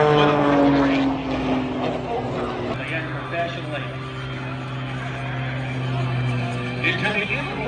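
An MXS all-carbon-fiber aerobatic airplane with a Lycoming engine of close to 400 horsepower performing at an air show, a loud sustained propeller drone with a shifting pitch under a commentator's voice.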